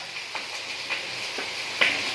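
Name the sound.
food frying in pan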